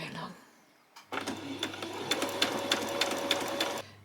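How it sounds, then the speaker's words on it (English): Domestic sewing machine running a short burst of back stitches, a steady close mechanical whir with rapid ticking needle strikes starting after a brief pause and stopping abruptly; a voice talks before it starts. "I'm just going to do a couple of back stitches"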